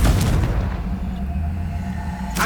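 A Confringo blasting spell explodes in Hogwarts Legacy, a loud, deep booming rumble that fills the whole moment and decays slowly, with another burst starting at the end.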